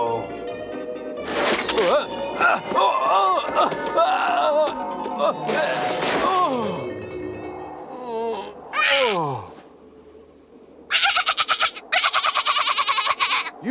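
Cartoon birds squawk and cackle in a run of loud, close, rising and falling calls, like mocking laughter, broken by short pauses, with voices between the bursts.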